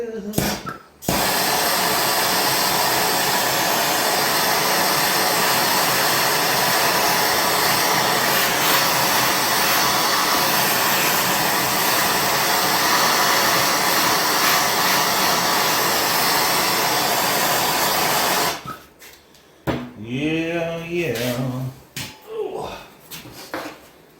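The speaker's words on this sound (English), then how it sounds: "I think I'm going to get the torch and heat some of that up" Torch heating a Dodge 225 intake manifold on a 1974 Dodge D100, giving a loud, steady, close roaring hiss for about eighteen seconds before it cuts off and someone talks.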